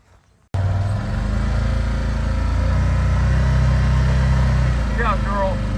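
A farm buggy engine towing a water tank on a mineral sled kicks in and holds a loud, steady mechanical drone right up close, with a brief voice breaking through near the end.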